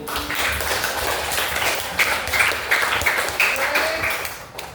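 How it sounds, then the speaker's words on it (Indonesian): A classroom of students claps together in a burst of quick, uneven hand claps lasting several seconds, close and fairly loud before fading. "Oke benar. Tepuk tangan dulu."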